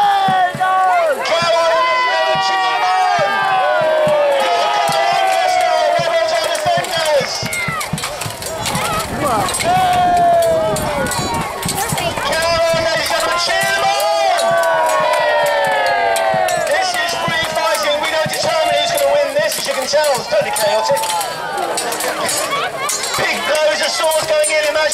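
An audience at a knights' battle reenactment cheers and shouts continuously, a loud crowd roar with rising and falling waves of yelling, overlaid by an announcer's voice through much of it.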